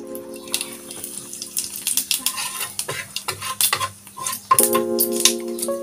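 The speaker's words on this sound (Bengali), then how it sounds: "দেখো তেল নিয়ে নিলাম, এখানটায় আমি জিরে দিয়ে দিলাম" Cumin seeds sizzle in hot oil in a pan while a spatula stirs and scrapes steadily, giving a close, continuous frying hiss with irregular metallic strokes and no speech.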